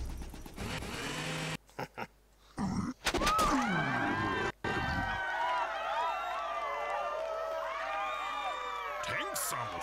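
Villagers in the video game Serious Sam 2 raise a loud chorus of whooping, cheering voices, with grunts and groans early on, then sustained overlapping shouts that carry through to the end.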